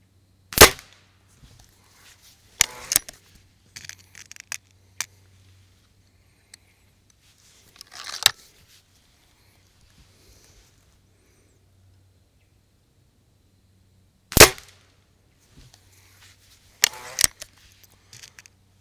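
A budget spring-piston air rifle firing JSB 8.44 pellets: five sharp, loud cracks spaced several seconds apart, each followed by faint clicks and handling noise in a quiet room.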